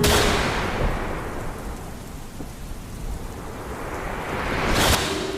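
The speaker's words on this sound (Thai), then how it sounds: "เสียงฟ้าผ่าดังตามหลังแสงสว่างนั้น" Steady heavy rain hisses throughout, with a loud crack of thunder rumbling in near the end.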